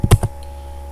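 A quick burst of three keystrokes on a computer keyboard, close and crisp, followed by near silence.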